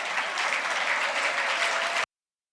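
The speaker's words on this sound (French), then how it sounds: "Je vous demande de l'applaudir bien fort." Dense, steady crowd applause from an audience at an Ivorian gathering, filling the clip at an even level for two seconds before cutting off abruptly into silence.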